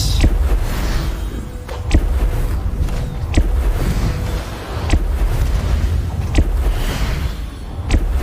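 Area-attack fire and explosions roar in the Tower of Time game, a dense, loud crackling rumble with repeated sharp bursts at roughly one-and-a-half-second intervals.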